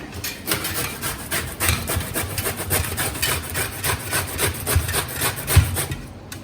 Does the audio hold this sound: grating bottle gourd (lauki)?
yes